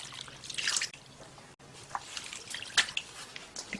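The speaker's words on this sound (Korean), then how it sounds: "그다음에 물을 붓고" Water poured over malt in a strainer while making grain syrup splashes and trickles in close, uneven bursts, with wet squishing and dripping in between.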